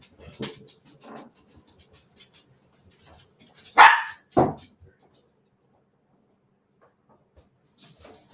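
Two loud, close dog barks burst out in quick succession indoors, with scattered quieter voices and room noise before and after during an interview session.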